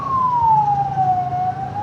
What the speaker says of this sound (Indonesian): ambulans ya, membawa mayat ya, jenazah dari masjid yang telah disolatkan dan akan berangkat menuju ke pemakaman ya